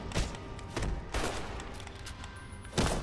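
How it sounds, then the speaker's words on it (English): Video-game gunfire in Fallout: New Vegas, with several sharp, loud gunshot bursts spaced across the moment over a steady background rumble, close and prominent. "Did I just hear guns?"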